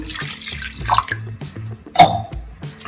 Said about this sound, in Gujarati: તેમાં 1 ગ્લાસ જેટલું પાણી એડ કરીશું